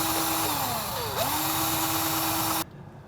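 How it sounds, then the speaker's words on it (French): Whining whir of a mixer paddle on a cordless drill/driver stirring resin for a canoe build, pitch dipping under load then recovering, steady and close before cutting off abruptly. "j'utilise pour mélanger tout ça un mélangeur au bout d'une perceuse"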